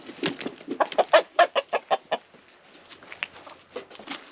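A naked-neck hen and rooster on a farm in Mexico give a quick run of close, clear clucks that build into a rapid burst, then trail off into scattered softer clucks.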